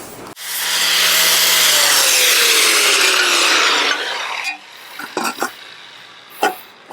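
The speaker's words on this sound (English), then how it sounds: "Just going to use the flap disc now just to take that back a little bit and get it tidied up." A flap disc on an angle grinder dressing down a galvanised metal door, one loud close pass of rough abrasive rasping for several seconds as the motor whine slowly drops, then a few short scuffs and knocks.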